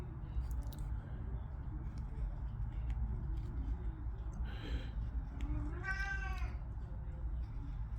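A pet cat meows twice, faintly and briefly, over a low steady room hum during barrel carving, the second call longer and more drawn out.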